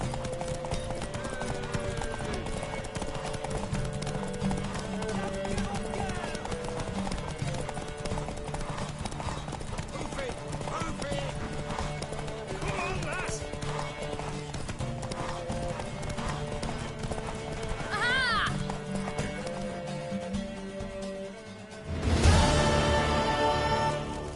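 Steady clip-clop of galloping hooves runs throughout, with a horse whinny and an occasional voice over the soundtrack of the video game The Witcher 3, ending in a louder rushing burst.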